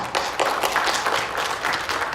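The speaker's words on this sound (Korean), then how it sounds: "우리 환영의 박수 하시겠습니다" A church congregation claps to welcome visiting guests during a service. The applause is a dense, steady patter of many hands that carries on throughout, close and fairly loud.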